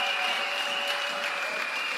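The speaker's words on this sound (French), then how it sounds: "Applaudissez l'Éternel," Clapping from a crowd at a youth camp worship gathering, dense and steady with a sustained tone ringing over it, continuing evenly without talk.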